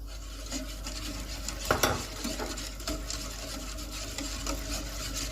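White sauce for pasta, seasoned with salt, black pepper, white pepper and nutmeg, is stirred as it cooks in a pan, giving a soft steady scraping with one sharper clink of utensil against metal, no voices.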